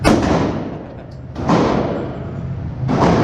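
Three loud, sharp gunshots at a shooting range, each a heavy close blast followed by a fading ring, spaced about a second and a half apart.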